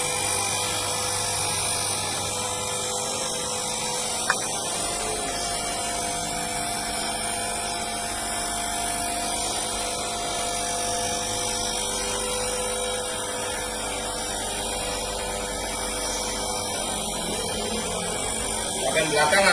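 An electric paper drilling machine from INV runs with a steady mechanical whine and hum, loud and unbroken throughout, with a brief click near the middle and a slight swell at the end.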